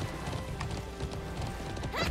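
A horse in the online game Alicia Online clip-clops and crashes as it falls over, with game hoofbeats and a short whinny-like burst near the end over steady background game sound.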